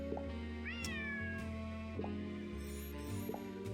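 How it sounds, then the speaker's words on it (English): A cat meows in the Nancy Drew Dossier: Lights, Camera, Curses! game, one clear rising meow over a steady low background hum and faint musical tones. "Lucy has heard the other cat sounds"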